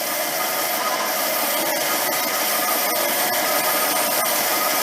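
A metal lathe runs at about 900 RPM while making a steady rest, producing a constant, even whirring drone with faint scattered ticks throughout.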